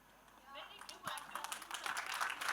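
An audience at a media question-and-answer session in Mumbai breaks into applause that swells from scattered claps into a dense, continuing round, with voices mixed in.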